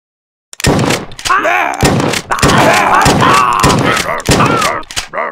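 Double-barrel shotgun blasts in the zombie shooter Redneck vs Zombies, a series of loud, close booms spaced about half a second apart, with yelling voices over them.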